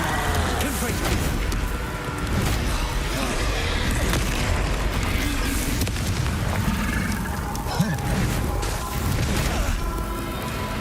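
Fiery Confringo spell blasts from the video game Hogwarts Legacy boom and burst amid continuous loud, dense combat rumble, with explosive impacts layered over a constant roar.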